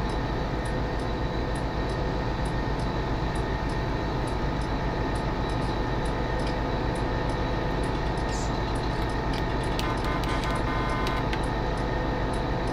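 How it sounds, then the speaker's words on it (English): A train rolling past in a farming video game, a steady, continuous rumble with a regular clicking rhythm that holds throughout, loud and without speech. "There's a train up there"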